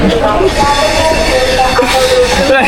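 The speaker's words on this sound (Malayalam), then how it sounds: "ഇതാണ് നമ്മുടെ തിരുവനന്തപുരം സെൻട്രൽ സ്റ്റേഷൻ" A train at Thiruvananthapuram Central railway station in Kerala, a loud steady rumble of rolling railcars with faint wheel squeal on top, heard close and continuous.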